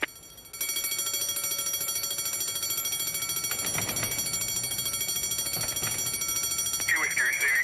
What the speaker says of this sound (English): Report of an alarm bell ringing